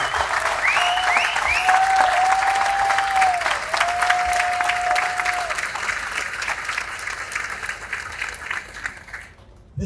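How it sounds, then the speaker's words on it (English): Sustained applause for students at a design-build competition awards event, a dense crowd clapping steadily for several seconds before fading out, with a few whistles early on. "we get to have a round of applause for all of our students"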